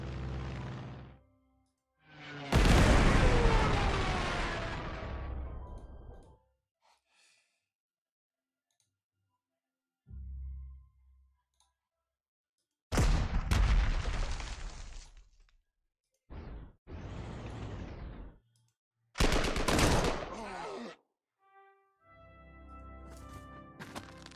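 Artillery fire in a Wehrmacht campaign wargame on a hex map: one long, rumbling blast, then several shorter, sharp bursts separated by quiet gaps.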